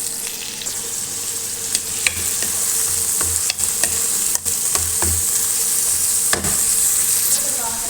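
Chopped onions frying in hot oil in a pan for an Indian-style Arabic chicken curry, a steady close sizzle with occasional scraping stirs and clinks, no voices.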